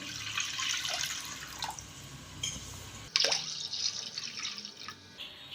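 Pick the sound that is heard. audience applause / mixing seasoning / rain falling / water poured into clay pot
water poured into clay pot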